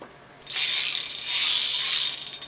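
A ratchet extended with a pipe cheater bar loosens a bolt, giving loud, close, rapid mechanical clicking in a continuous burst of about two seconds that briefly eases and then resumes.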